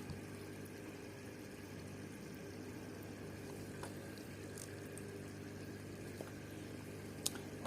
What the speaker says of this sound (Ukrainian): Цей фільтрик на шлангу і вмикнемо. Так, будь пішли бульки.